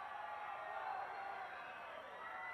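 A crowd at an 1980s Texan-Mexican women's wrestling match roars and cheers in a steady, dense wash of noise that fills the whole moment.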